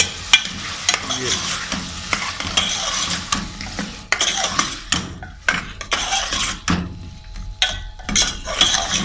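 Potatoes frying and being stirred in a pot for aloo gosht, a hissing sizzle broken by repeated scrapes and clinks of a metal spoon against the pan; a voice speaks briefly.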